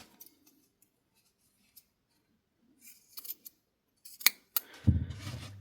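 Scissors snipping the yarn ends of a crocheted amigurumi reindeer, a few sharp close clicks and snips separated by quiet pauses, then a louder burst of handling at the end, no voices.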